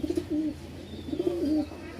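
Soft cooing of breeding Rajshahi Giribaz pigeons in two throaty, rolling phrases, close by and fairly quiet, with a faint high hum in the background.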